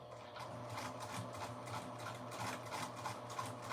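A sewing machine stitches a 3/8 inch seam on an Anna dress, running in a steady, fast, even whir close by with no talking.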